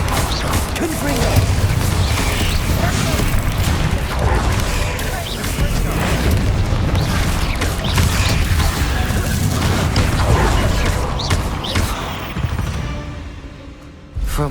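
Confringo blasting spell explosions in the video game Hogwarts Legacy, a dense run of booming bursts, crashes and mechanical clatter that stays loud and close before easing off at the end.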